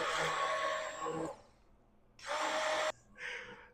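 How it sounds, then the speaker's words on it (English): An immersion blender whirs through pumpkin soup in two loud bursts with a pause between them, then a shorter, softer third pulse. "Now, I'm not the best with an immersion blender."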